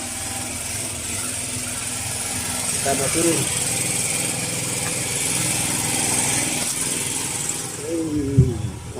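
Engine running aboard the bagan fishing boat Fahri 05 at Lelewawo, North Kolaka: a steady, buzzing mechanical hum fills the background while people talk nearby, with a few brief creaks and knocks.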